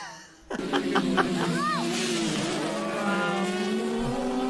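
A racing motorcycle at the Isle of Man TT screams past at very high speed down a town high street, a sudden loud roar with a falling Doppler whine, then a sustained engine drone, with people talking and reacting over it.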